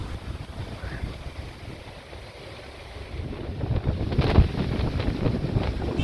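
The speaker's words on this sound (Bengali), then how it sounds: "যত বেলা গড়াচ্ছে হাওয়ার গতিবেগ তত বৃদ্ধি পাচ্ছে।" Strong gusty wind from Cyclone Remal in Kolkata buffets the microphone, a rough roaring rush that builds louder toward the end with sharp gust bursts.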